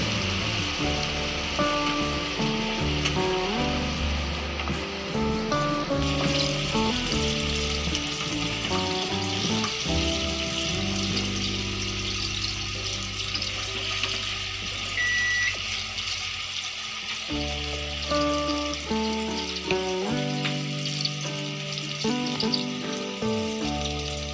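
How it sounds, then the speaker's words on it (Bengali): Paneer pieces sizzle and fry in a pan over medium-to-high flame, a loud continuous crackle lasting throughout with occasional stirring, alone with no talk. "খুব হালকা করে পনিরটা ভাজতে হবে, খুব বেশি ভাজতে হবে না।"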